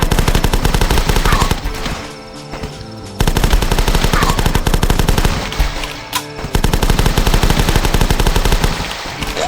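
Rapid, loud machine gun bursts from the Flash game The Last Stand, firing continuously with short pauses between volleys and sharp individual shot cracks layered over a dense rattling stream.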